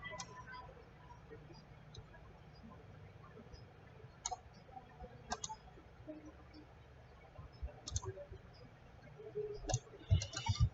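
Sharp computer mouse clicks come in scattered single and double taps, faint and close, over a low background hum with some quiet handling noise near the end.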